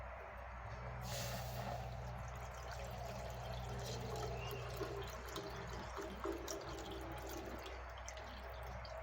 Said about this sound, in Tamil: நம்ம இதில் ஊற்றிக்கலாம்.